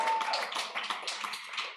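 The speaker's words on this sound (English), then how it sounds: "Let's give her a round of applause." A conference audience applauds briefly, a dense patter of many hands clapping at once, fairly soft and slightly distant, lasting under two seconds.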